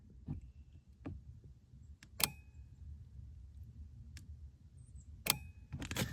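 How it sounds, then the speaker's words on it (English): A Lockithor J3250 jump starter measuring voltage gives a series of faint, sharp clicks at irregular intervals of about a second, close by in a quiet room. "if you listen carefully, it's clicking"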